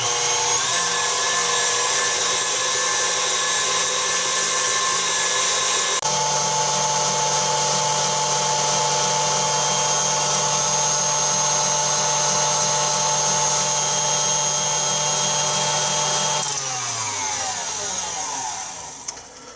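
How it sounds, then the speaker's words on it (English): A blender beats egg whites to stiff peaks for Belgian waffles, giving a loud, steady motor whine close by. Its pitch shifts about six seconds in, then it winds down near the end. No one talks. "My egg whites are going to go into the blender,"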